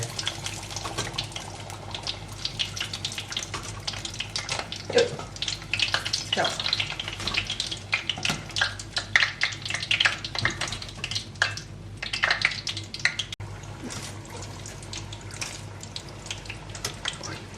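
Steady sizzling and crackling of shrimp and minced pork spring rolls deep frying in hot oil, with dense popping throughout and occasional louder bursts.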